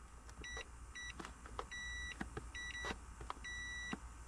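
Multimeter continuity beeps while testing a Dodge Dakota horn button circuit, several short electronic tones repeating at a steady rhythm over faint background hum.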